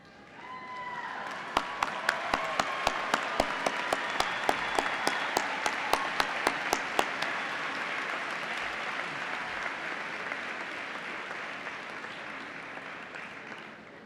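Applause fills a university commencement ceremony, a broad steady wash of many hands lasting the whole stretch, with a run of sharp nearby claps in the first half before it settles into a distant, even roar.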